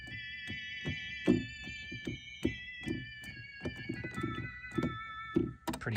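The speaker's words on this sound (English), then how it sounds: "If I strip all these out, pull it down, add a little vibrato" A VOX Continental organ with vibrato added plays sustained chords with a wavering pitch, over a rhythmic low thumping pattern, moderately loud and without talk.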